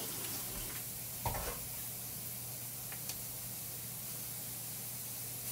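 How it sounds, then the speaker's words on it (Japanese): Onions frying slowly over low heat, giving a steady, soft hiss and sizzle with a couple of brief clinks of stirring, close and quiet, with no talk. "玉ねぎはね、かなり弱火で炒めてるので、結構時間かかりそう"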